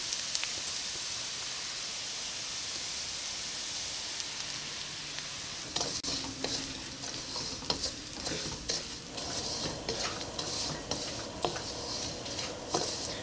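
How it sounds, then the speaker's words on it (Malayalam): Semolina stirred into sautéed onions in a pan for soft rava upma: a quiet frying hiss at first, then repeated scraping and clinking of a spatula against the pan in an irregular rhythm. "ഈ റവ ചേർത്ത് കഴിഞ്ഞിട്ടുണ്ടെങ്കിൽ ഇതേപോലെ നിങ്ങളിങ്ങനെ നിർത്താണ്ട് ഇളക്കി കൊടുക്കണം"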